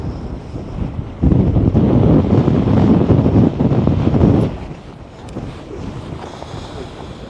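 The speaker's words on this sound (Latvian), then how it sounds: "Normāls vējš sākās." Strong wind buffets the microphone in a loud, roaring surge that eases off after a few seconds, with a low rumble continuing beneath.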